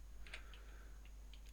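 A few light, scattered keyboard taps sound close but faint over a steady low electrical hum.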